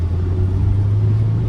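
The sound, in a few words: Honda six-cylinder car engine running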